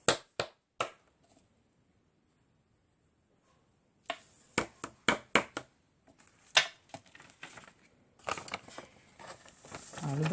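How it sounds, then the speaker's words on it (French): Embossing powder in a container scraping against a piece of metal during heat-embossing card craft, heard as sharp dry scratches and taps, a few isolated ones then a faster cluster, close and fairly quiet. "le bruit que vous entendez, c'est ma poudre"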